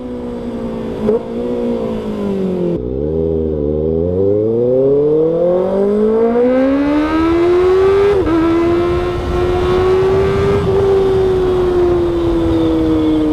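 A Kawasaki ZX6R sport motorcycle, a 2024 or 2022 model, screams past in a loud fly-by, its engine pitch sweeping down as it passes, then climbing steadily as it revs hard and accelerates away, close and with no talk.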